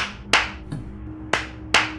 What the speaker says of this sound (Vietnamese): vỗ tay vài cái là có thể tắt mở đèn